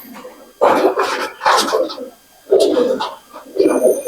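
Pigeons of an Andhra breed coo close by in a loft, giving four deep throaty bursts of cooing separated by short quiet pauses.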